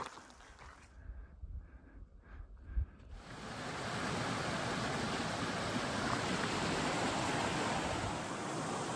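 Deer Creek flowing along the Pacific Crest Trail, a steady broadband rush of water that swells in after a few seconds of quiet and then holds at a constant, moderately close level.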